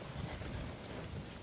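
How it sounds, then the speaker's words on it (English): Steady, broadband wind buffeting a microphone on a hilltop on the Isle of Man, a continuous low rumble with airy hiss and no voices. "while you listen to the wind"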